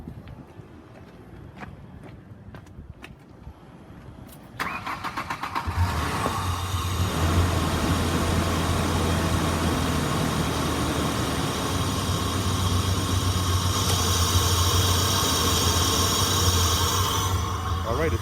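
A 2002 Ford Ranger with a bad fuel pump cranks and fires on starting fluid after some quiet shuffling, then settles into a steady, loud, close idle that runs on without a break.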